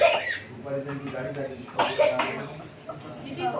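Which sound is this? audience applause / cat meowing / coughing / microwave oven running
coughing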